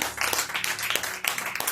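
Congregation clapping in a church service, a dense run of hand claps spread through the room, fairly loud and continuous with no talk over it.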